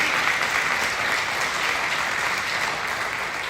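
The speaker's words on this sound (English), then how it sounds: "Let's give them a round of applause before our closing statement." An audience at a Texas roller rink gathering about ranchers breaks into continuous applause, a thick, even patter of many hands that holds steady throughout at moderate loudness.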